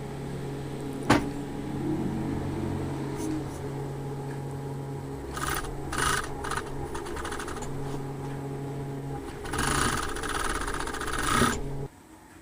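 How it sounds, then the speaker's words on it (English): Overlocker sewing the side seams of jeans, a fast mechanical whirring run broken by pauses, clicks and handling noise, fairly quiet and close. "I'm overlocking the sides."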